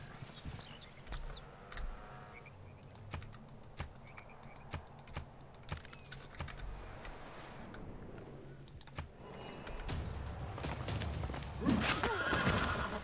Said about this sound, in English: the horses right outside the doorstep of Aberdeen